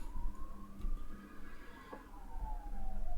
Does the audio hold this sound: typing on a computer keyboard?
no